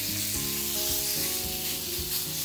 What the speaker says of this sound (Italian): Mettiamo un filo d'olio nella padella e andiamo a rosolare la nostra carne.